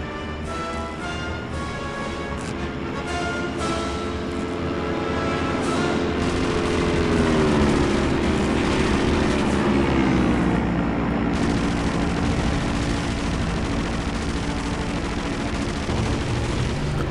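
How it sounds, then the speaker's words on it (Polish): Aircraft roaring overhead in the Indiana Jones and the Emperor's Tomb video game, a loud continuous engine drone that swells midway, mixed with game gunfire and battle noise. "Kolejny samolot poszedł, ale nadlatuje gdzieś kolejny."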